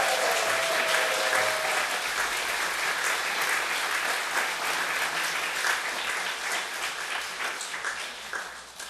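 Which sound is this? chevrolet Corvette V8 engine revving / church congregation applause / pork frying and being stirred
church congregation applause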